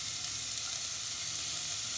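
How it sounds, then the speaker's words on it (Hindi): Coarsely ground garlic and green chilies frying in oil in a pan, a steady close sizzle running without a break and with no talking. "लहसुन और हरी मिर्च को हम 1 मिनट भुनेंगे"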